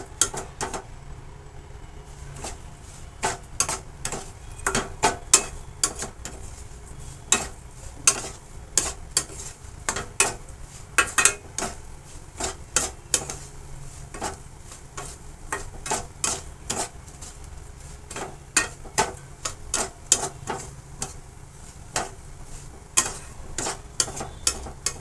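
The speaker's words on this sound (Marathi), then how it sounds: "रवा हा एकसारखा हलवावा लागतो, नाहीतर हलून करपतो तो." Semolina being stirred while roasting in a pan, a spoon scraping and tapping the pan in a steady, irregular rhythm of close, sharp clicks, with no talk.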